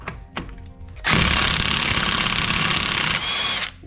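Power tool, likely an impact gun, working the rear axle nut on a 1998 Subaru Impreza 2.5RS GC8: a couple of short knocks, then a loud, continuous rattling whir for nearly three seconds that tapers at the end.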